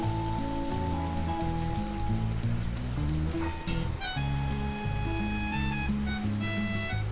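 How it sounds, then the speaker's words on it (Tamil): Marinated paneer shallow frying in a pan with pepper gives a steady, rain-like crackling sizzle throughout, with background music running underneath. "பன்னீரை மேரினேட் பண்ணி ஃப்ரை பண்ணுறோம் பெப்பரில்"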